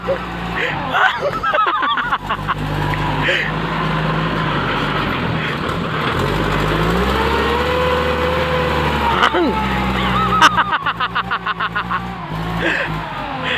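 Large Thai farm tractor (bulldozer-type) engine drones steadily while pushing two piles of dirt, a loud continuous low rumble with shifting load and clanking, voices talking and calling over it throughout.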